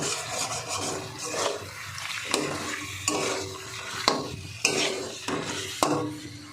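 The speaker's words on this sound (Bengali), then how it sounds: "আপনারা শুনতে পাচ্ছেন কিনা জানি না, তবে মাংসটা ফুটছে।" Soft sizzling and bubbling of mutton curry, made with ground spice paste, cooking in a pan, broken by repeated scraping strokes of a spatula against the metal every second or so.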